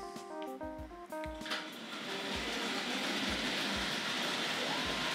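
A model train reverses, rumbling steadily along the track with rhythmic low clicks of wheels over rail joints, after a few brief tonal chimes at the start.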